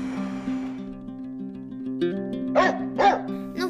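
Big dogs let out three or four loud barks in the second half, over a steady tonal musical backdrop.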